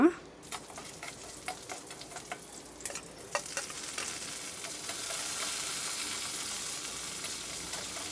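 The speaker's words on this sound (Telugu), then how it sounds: "ఇంకా పోపులు అవన్నీ వేపేస్తుంది అమ్మ" Tempering spices fry in hot oil for pulihora, starting with sharp popping crackles and then swelling into a steady, close, hissing sizzle with no talk over it.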